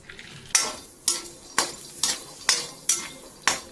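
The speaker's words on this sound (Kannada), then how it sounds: "ಸೊ ಇವಾಗ ನಾನು ಖರ್ಜೂರನ ಸೇರಿ ಎಲ್ಲನೂ ಡ್ರೈ ರೋಸ್ಟ್ಗೆ ಹಾಕ್ತಾಯಿದ್ದೀನಿ" Dates and other ingredients are dry roasted in a pan, stirred with a utensil that scrapes the metal in seven evenly spaced strokes, about one every half second, close up and clear, with no talk.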